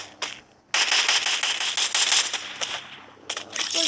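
Rapid gunfire from a firefight in the Free Fire battle-royale game: dense crackling bursts of automatic shots, a short burst then a long sustained volley, a pause, and another burst, loud and close.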